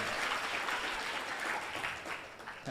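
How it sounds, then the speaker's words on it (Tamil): Audience applause at a Vethathiri music gathering honouring music professor Uma Shankar, a dense steady wash of many hands clapping throughout, fairly loud and continuous with no talking over it. "தம்பி, கரவொலி எழுப்ப வேணாம்"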